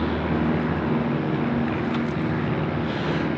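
A small airplane taking off in the Idaho backcountry, its engine a loud steady drone with wind rush throughout, no voices.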